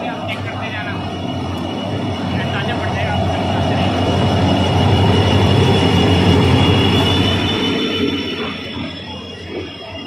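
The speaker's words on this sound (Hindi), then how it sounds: "ये देखिए हमारी ट्रेन आ चुकी है" The Bikaner–Delhi Sarai Rohilla superfast express train rumbles into a railway station and rolls past with heavy, building low-frequency noise and faint metallic squeal, a steady roar that peaks midway then eases.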